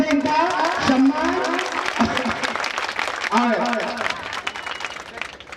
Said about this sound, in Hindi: जोरदार तालियों से इनका सम्मान